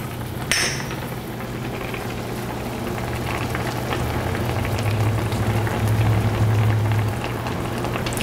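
Sauce for canh chua, a Vietnamese sour soup, bubbles steadily as it reduces in a pot, a continuous close simmering crackle and patter with a low hum underneath and a single sharp knock near the start.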